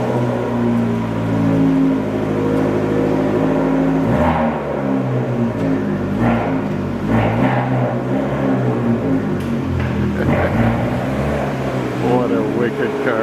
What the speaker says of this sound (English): So the car is going outside now, ready for the trip